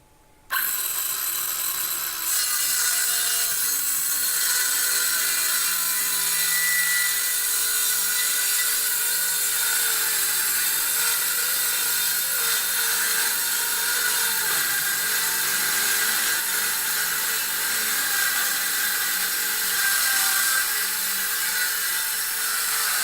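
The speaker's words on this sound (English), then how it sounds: "I then need to cut this piece of ply into 2" A power saw runs continuously through a sheet of plywood, cutting it in half for a 2x4 workbench top; a loud, steady whining drone that starts abruptly and holds for the whole cut.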